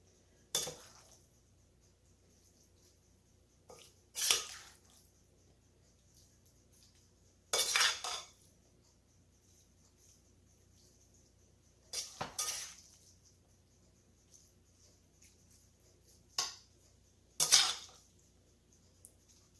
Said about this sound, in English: I'm just going to layer my rice with the chopped meat.